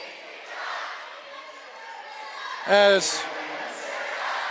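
Crowd noise in a high school gym during a girls basketball game between Spanish Fork and Clearfield, a steady murmur under an announcer's voice with a brief loud cheer or whistle-like burst in the middle.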